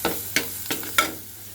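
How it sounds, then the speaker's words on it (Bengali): Ground spices (chilli powder, coriander and cumin) with coconut and cashew milk frying in a pan, stirred in three or four distinct scraping strokes over a soft steady sizzle, close and fairly quiet. "দিয়ে আমি কষিয়ে নিচ্ছি মশলাটা"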